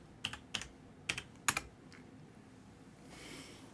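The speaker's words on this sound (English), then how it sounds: "Sorry, I'm typing some stuff." Several quick clattering keystrokes on a computer keyboard, close and crisp in a short uneven burst, then a faint background hiss with no voices.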